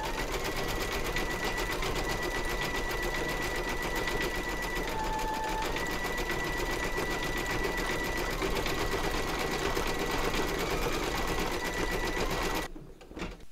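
A machine embroiders a large vintage sewing machine design, satin stitching a hot pink flower in an unbroken, even mechanical hum for about thirteen seconds before cutting off abruptly.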